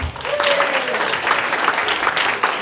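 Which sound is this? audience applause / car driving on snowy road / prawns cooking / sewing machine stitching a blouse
audience applause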